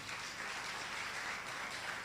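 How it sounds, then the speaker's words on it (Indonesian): Applause from a church congregation fills the room as a soft, continuous wash of clapping, even and steady throughout, heard at moderate distance with no voices over it. "Tepuk tangan buat mereka semuanya."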